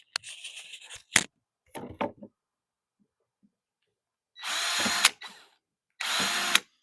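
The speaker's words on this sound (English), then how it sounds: "I'm gonna take my drill and make some holes along this PVC" A power drill whirs in short bursts, a few quick clicks and brief spins followed by two longer, louder runs as it bites through PVC pipe.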